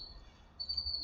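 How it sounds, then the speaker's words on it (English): Birds chirp outside, a faint, thin, high-pitched tweet held briefly, then repeated, quiet and distant behind an otherwise still room. "Excuse the birds outside, they're pests."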